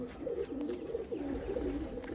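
Pigeons of a medium-sized show breed coo softly in low repeated rolling calls, fairly close and alone.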